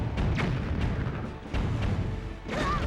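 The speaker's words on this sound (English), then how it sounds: "I'm pretty sure I just hit an oncoming bomb with one of my bombs and they blew up in midair" Explosions from bombs colliding and blowing up in midair in The Legend of Zelda: The Wind Waker, with repeated booming cannon-like blasts and a brighter burst near the end.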